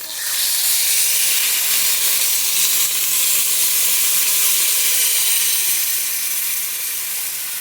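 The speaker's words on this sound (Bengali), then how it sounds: "এখন জল দিয়ে দিচ্ছি।" Loud, steady steam hiss and sizzle rise as water hits frying potatoes and spices in a vegetarian potato curry pan, holding for several seconds and fading slightly toward the end.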